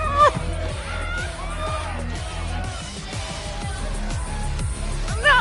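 A concert crowd in Life Is Strange: Double Exposure cheers and whoops continuously, shouts and screams rising over loud thrash music with pounding rhythm throughout.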